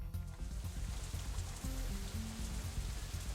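Rain in the visual novel game Katawa Shoujo, a steady wash of falling rain pattering on surfaces with soft low tones beneath it, continuous and even throughout.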